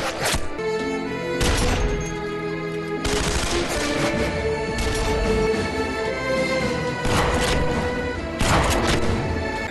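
Loud bursts of gunfire in a film shootout, rapid volleys and single heavy shots repeating against a tonal musical score.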